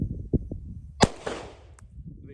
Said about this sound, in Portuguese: vou começar a fazer os disparos